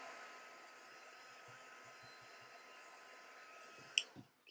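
A handheld heat tool drying embossing ink on a craft project, giving a steady, moderate whooshing blower hiss that runs continuously and then cuts off with a click near the end.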